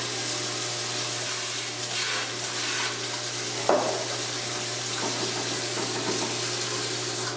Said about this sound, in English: Once you run the sink there, Is there hot water?